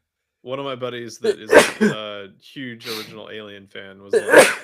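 A single sharp sneeze bursts out in the middle of a relaxed podcast conversation, close and loud, with people talking before and after it.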